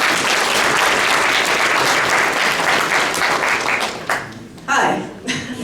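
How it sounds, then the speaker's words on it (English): A burst of loud, dense applause from a crowd, sustained for several seconds before tapering off into scattered claps. "So a big round of applause for Nancy."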